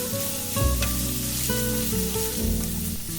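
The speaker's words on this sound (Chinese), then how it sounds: "现在可以把西兰花倒进来翻炒一下" Broccoli tossed into a hot pan with golden pan-fried chicken pieces, a loud continuous sizzle and crackle of frying with stirring and scraping, close up and without talk.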